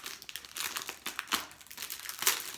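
Plastic packaging is unwrapped by hand, giving close, quiet crinkling and crackling in irregular bursts with no talking.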